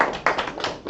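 A few quick hand claps from a congregation at a Feast of Unleavened Bread closing service, short and close, a brief burst of four or five sharp slaps.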